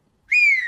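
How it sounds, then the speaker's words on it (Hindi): A woman in a cartoon story gives a single short, clear, bright whistle that starts abruptly and holds a steady pitch. "उन्हें पायल के सीटी बजाने की आवाज सुनाई देती है"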